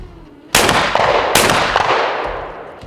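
Two loud, close gunshots roughly a second apart, each a sharp crack with a lingering ring, fired at a shooting competition between a Korean shooter and former US Marines who served in Afghanistan.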